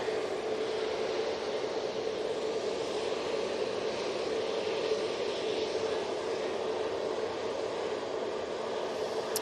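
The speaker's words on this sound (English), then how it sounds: "Got the Jet2 A321neo going out now in the .com livery." Jet2 Airbus A321neo airliner departing Manchester Airport, a steady, even engine roar with broad rushing noise that holds at constant loudness throughout, heard from a distance with no voices.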